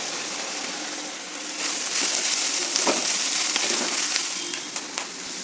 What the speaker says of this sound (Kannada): ಈಗ ಒಗ್ಗರಣೆ ಎಲ್ಲ ಚೆನ್ನಾಗಿ ಫ್ರೈ ಆಗಿದೆ